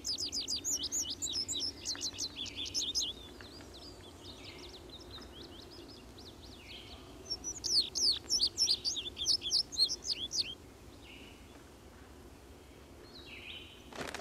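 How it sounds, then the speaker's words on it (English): A blue bunting sings in a meadow, its bright, rapid chirping phrases coming in two clear bursts with quieter gaps between, set against soft background hum. "the song of the bunting can be heard in meadows throughout the day"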